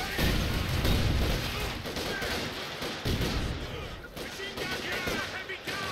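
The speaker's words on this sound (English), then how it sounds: "now we can just lob grenades on him" Grenade blasts in Company of Heroes 2, a World War II strategy game, with several loud booming explosions and crackling gunfire-like bursts in dense, chaotic battle noise.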